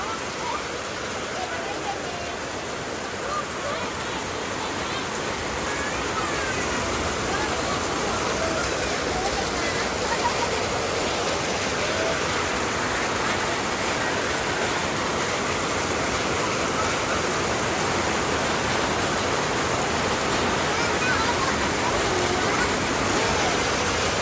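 Steady, heavy rain pours down in a continuous, even hiss that stays constant throughout, with no pauses or breaks.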